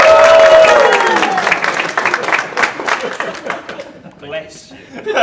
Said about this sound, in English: Can you clap?